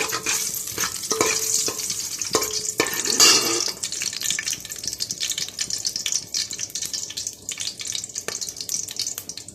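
Whole spices of cinnamon, fennel, cloves and cardamom frying in hot oil, a steady crackling sizzle with sharp pops and utensil scrapes early on, continuing throughout with no voices.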